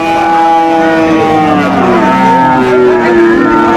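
A Sahiwal cow gives one long, loud, close moo lasting several seconds at a cattle market, wavering in pitch and standing alone.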